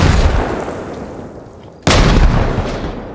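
A single loud grenade blast bursts out mid-clip in the military shooter Arma Reforger, over steady game-world ambience, with a rumbling tail that lingers.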